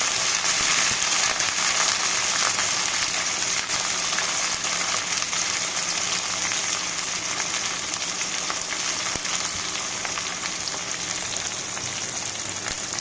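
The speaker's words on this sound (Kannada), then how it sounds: "ಇವಾಗ ಕಟ್ ಮಾಡ್ಕೊಂಡಿರುವಂಥ ಬದನೆಕಾಯಿಗಳನ್ನು ಹಾಕೋಣ" Cut brinjal pieces go into a hot pan for vangi bhath and set off a loud, steady, close sizzle and hiss of frying that fades only slightly over time.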